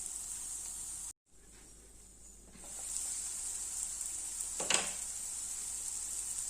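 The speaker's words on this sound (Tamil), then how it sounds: "கொஞ்ச நேரம் வதங்கட்டும்" Food sautéing in a pan while cooking a tiffin-box rice dish, heard as a steady, close sizzle and hiss. It briefly drops out, then resumes louder, with a short clatter of stirring partway through.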